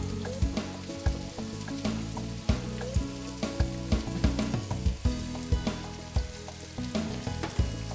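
Zucchini fry in a pan with garlic, a dense, close crackling sizzle broken by regular scraping stirs with a utensil, loud and continuous with no speech.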